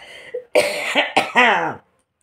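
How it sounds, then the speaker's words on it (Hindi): Several harsh, raspy coughs in quick succession, close and loud, ending abruptly into silence. "अब आ गया खांसी, देखो खांस रहा हूँ।"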